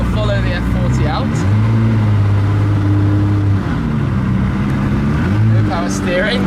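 A Ferrari supercar engine drones loud and close while following a Ferrari F40, its pitch rising and falling with gear changes, and voices talking over it.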